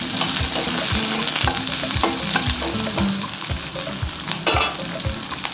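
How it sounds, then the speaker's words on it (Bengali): Onions and green chillies frying in hot oil in a pan, a continuous loud sizzle close up, broken by regular clanks and scrapes of a spatula stirring. "এই তেলেতেই দেবো আমি কিছু পেঁয়াজ আর দিলাম কাঁচা লঙ্কা।"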